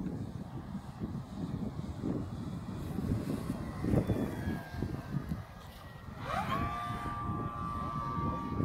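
A Hobbyking Supercub 1870mm model airplane's electric motor hums distantly under wind noise as it comes in to land, its pitch gliding and a rising whine appearing near the end.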